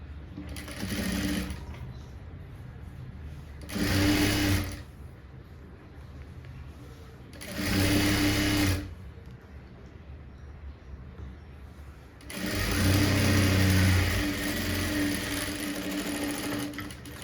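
A sewing machine stitching blouse fabric runs in four whirring bursts, the last one longest, separated by quieter gaps, close and clear.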